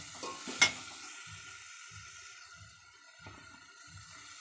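Water is poured into a pan of sizzling potato and spinach sabzi, a sharp splash and hiss followed by soft rhythmic stirring scrapes at regular intervals over a quiet sizzle.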